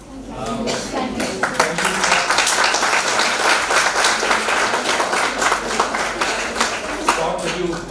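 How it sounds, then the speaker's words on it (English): Students applaud at the close of a lecture given over Skype, a sustained burst of clapping lasting throughout, fairly loud and dense, with scattered voices mixed in. "did you hear my students applauding you?"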